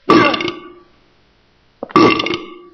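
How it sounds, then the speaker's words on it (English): A monster in the horror game Silent Hill 4: The Room lets out two loud, deep, drawn-out burps, each starting abruptly and trailing off, separated by a brief silence. "You're burping. That's gross."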